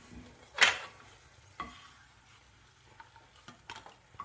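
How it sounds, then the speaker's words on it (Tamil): Garlic fries in hot oil in a pan for a tamarind rice dish, a steady close sizzle broken by a loud stirring scrape and several lighter utensil knocks. "அதில் இந்த பூண்டை போட்டு நல்லா செவக்க வரும் அளவுக்கு நல்லா பொரிச்சு எடுத்துக்கோங்க"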